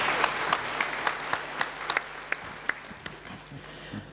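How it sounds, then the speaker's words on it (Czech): Scattered applause from a small audience, individual claps popping irregularly over a soft crowd murmur. "Give her a nice big hand."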